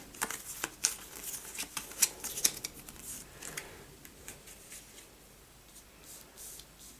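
Playing cards for the DungeonQuest board game are shuffled by hand, a quick series of soft, crisp riffling snaps and flutters close by, dense at first and then thinning out, with no talking.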